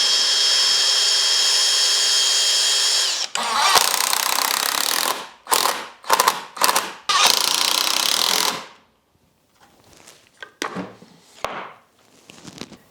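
A power drill whines steadily for a few seconds, then bites into wood in several loud, grinding bursts, followed by quieter scraping and knocks.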